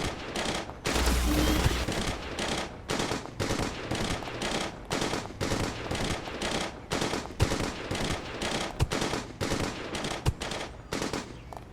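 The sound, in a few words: gunfire from guns in a video game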